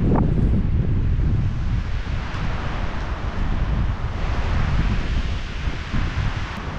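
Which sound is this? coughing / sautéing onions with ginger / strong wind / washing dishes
strong wind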